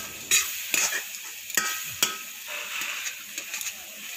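A spatula scrapes and stirs banana halwa in a kadhai, with several sharp scraping strokes over a soft background sizzle, close and fairly quiet.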